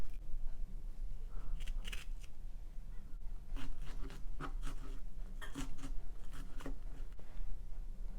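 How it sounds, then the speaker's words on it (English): A knife cuts the green stems off fresh strawberries, giving a run of short, crisp slicing and scraping strokes at close range. The cuts come in uneven bursts over a steady low background, with no talking. "So I'm just removing the stems of the strawberries."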